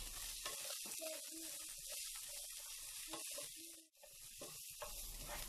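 Vegetables and slit green chillies shallow fry in a pan for an Indo-Chinese egg chilli dish, making a steady close sizzle and hiss broken by occasional stirring scrapes, with no talking.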